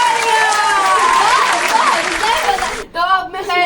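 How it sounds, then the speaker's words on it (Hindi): A gathering of people claps in a loud burst of applause while voices speak and call out over it. The clapping cuts off near the end, leaving a single voice talking. "तालियां।"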